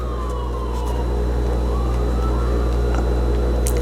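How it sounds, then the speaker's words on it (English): A siren wails faintly in the distance, rising and falling over a loud, steady low rumble of traffic or engine noise. "And there was just a siren that went by"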